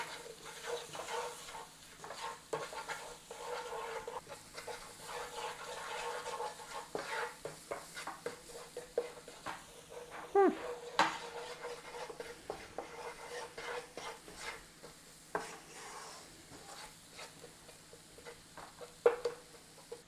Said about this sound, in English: Stir in your spices and bloom them out in the oil.